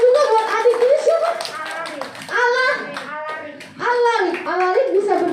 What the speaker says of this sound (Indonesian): Tepuk tangan juga buat adik ini siapa?